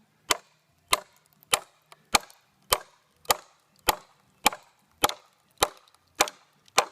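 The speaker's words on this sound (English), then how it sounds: "You can hear the wood cracking." Bow wood is split by hand, giving about a dozen sharp, loud cracking strikes at a steady rhythm roughly every half second, close by with no voices.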